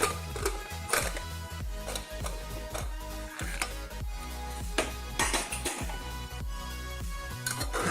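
Chicken stew being stirred in a pot, a busy clatter of metal spoon knocks and scrapes against the pot rim repeating close and fairly loud, with no talking.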